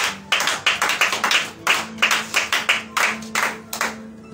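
A church congregation claps in a steady rhythm of loud, sharp hand claps with brief pauses, some cheering mixed in, continuing for several seconds with a faint sustained tone underneath.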